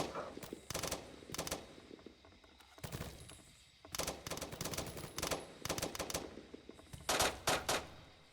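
Automatic gunfire from a military breaching and room-clearing drill, heard as several loud, sharp bursts of rapid shots separated by brief pauses across the span.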